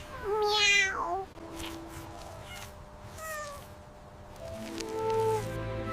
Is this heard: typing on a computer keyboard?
no